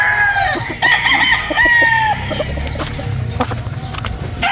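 Gamefowl breeder roosters crow loudly and close by, several overlapping cock-a-doodle-doo calls in the first two seconds, then softer clucking and farmyard noise.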